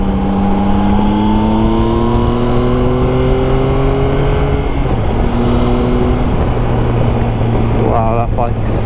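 Exhaust note of a Yamaha Tracer 900 GT motorcycle under way, its underbike exhaust giving a loud, steady engine drone that rises and falls in pitch against constant wind rush.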